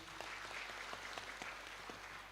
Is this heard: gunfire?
no